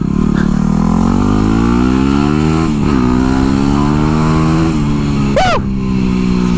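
A dirt bike engine revs and rides continuously, pitch rising and falling through gear changes, loud and close throughout with no talk.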